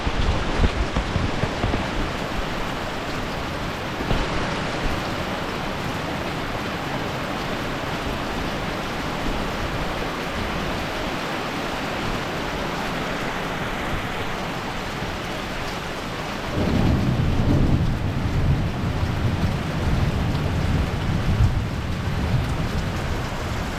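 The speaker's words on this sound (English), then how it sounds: "Rain settled down a little bit, so I guess we'll get back to work." Heavy rain and a thunderstorm pour down steadily with a dense broadband hiss, and a louder, deeper rumbling surge joins in partway through; no one speaks.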